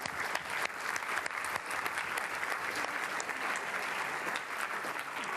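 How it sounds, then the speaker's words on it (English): Audience at a vaccine confidence panel event applauding the panelists, a steady, moderately distant wash of clapping from a crowd that lasts throughout without pause. "Could we give them another hand of applause?"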